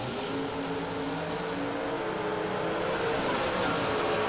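An Oldsmobile drag car makes a straight run down the strip at a doorslammer drag racing event, a continuous, loud engine drone that holds steady and grows slightly louder toward the end.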